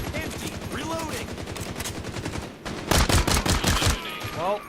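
Full-auto rifle fire in the shooter game Caliber rattles in rapid, loud bursts, first steady, then a harder, denser volley after a brief lull, with faint game voice callouts mixed in.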